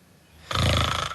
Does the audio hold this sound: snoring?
yes